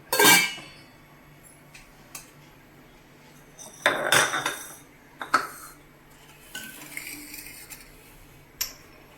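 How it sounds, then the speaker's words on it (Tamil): A jackfruit is cut into small pieces with a knife in a home kitchen while water heats for jackfruit payasam. Several sharp knocks and clattery taps come at an irregular pace, close by, with no talking. "தண்ணி கொதிக்கிறதுக்குள்ளே நம்ம இந்த பலாப்பழத்தை கட் பண்ணி"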